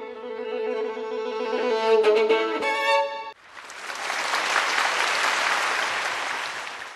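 Film audience bursting into applause after Kaori's piano performance at a competition, dense clapping taking over right after the piano music ends and continuing steadily and loudly.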